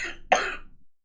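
A single sharp cough, close and fairly loud, followed by a brief fading rasp and then quiet.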